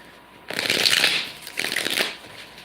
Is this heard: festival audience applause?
no